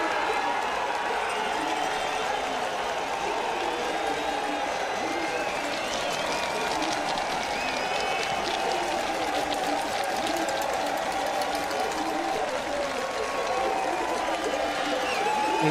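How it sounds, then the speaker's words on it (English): Crowd cheering and applauding the world champion as riders finish a men's UCI Cyclo-cross World Cup race in Namur; a dense, steady roar of clapping and shouting runs the whole time, with voices mixed in. "the crowd greeting the world champion"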